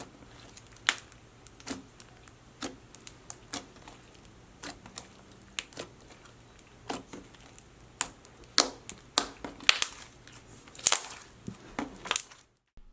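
Thick slime packed with foam beads is squished and pressed by hand, giving scattered close crackles and sharp popping clicks over near silence, becoming denser and more frequent near the end, with no talking.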